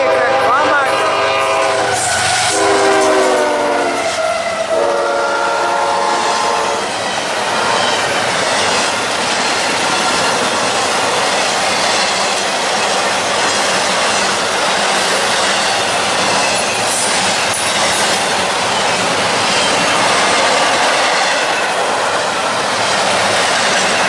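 A southbound CSX freight train passes close by, its horn sounding loud early on over a continuous roar of wheels and rolling cars, with clickety-clack and faint squeal throughout.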